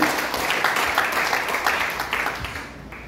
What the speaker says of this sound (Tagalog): pumalakpak ng malakas sa ating Panginoon